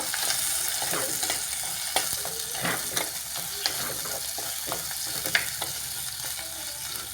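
Garlic and tomato sautéing in a pan for fish curry, continuous close sizzle and frying crackle with scattered clicks of a stirring spoon, no voices.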